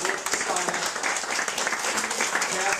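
An audience at a Q&A for the Night of the Living Dead cast claps in a dense, steady round of applause, with a voice speaking over it.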